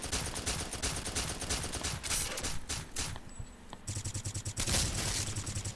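Dense, continuous gunfire from a military shooter video game, with rapid automatic bursts and overlapping shots filling the whole stretch, loud and busy throughout with a brief thinner moment before the firing resumes.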